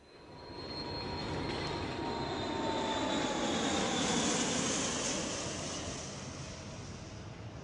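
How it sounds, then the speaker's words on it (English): An aircraft roars past at an airport, a broad rushing whine that swells over several seconds and then fades, heard alone without talk. "James Brady is at the airport"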